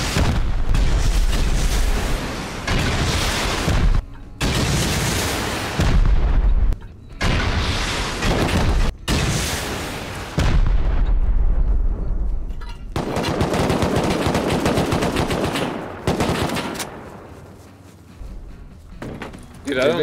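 Loud, sustained gunfire and booming explosions fill a base raid in the video game Rust, with heavy bursts broken by short pauses and voices talking over the combat.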